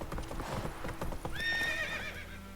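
Horse hooves clip-clop in quick rhythm, then the horse Roach gives a high, wavering whinny, all from the video game The Witcher III, moderately close under faint background game ambience.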